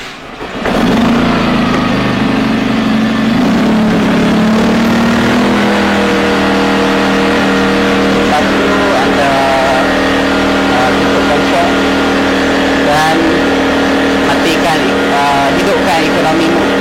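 A Jetmac JI2300 inverter generator pulled into life and then running steadily, a loud continuous engine drone with a strong hum that settles after the first few seconds, with a voice heard in the background.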